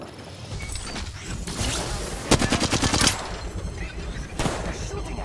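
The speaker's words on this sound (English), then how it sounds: "They're shooting at me." Bursts of rapid automatic gunfire ring out in an Apex Legends firefight, with a tight rattling volley in the middle and a few scattered shots around it over continuous game background noise.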